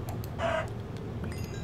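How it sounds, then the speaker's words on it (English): Blocky Minecraft chickens cluck in a short burst, a clear mid-pitched squawk rising briefly over a low steady background hum before fading back to ambience. "here's some chickens."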